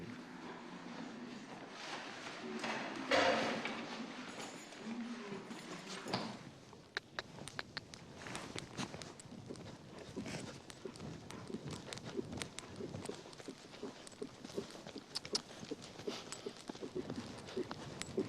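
Hooves of a confident young horse clip-clop across stable ground at the stables, a steady, fairly close rhythm of sharp knocks after a brief louder rustle, with light background noise throughout.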